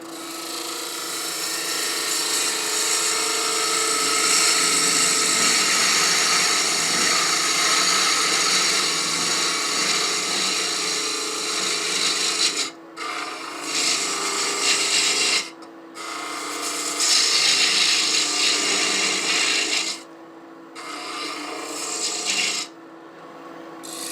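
A woodturning lathe tool scallops into a spinning wooden stacking box, giving a continuous loud rasping, scraping cut that drops out briefly several times as the tool lifts away, with no talk.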